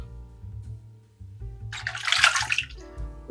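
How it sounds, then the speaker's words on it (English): Warm tap water runs over a Rockwell 2C safety razor blade as it is rinsed during a wet shave, a brief splashing rush that swells near the middle and fades, close and alone. "put a little warm water on the blade"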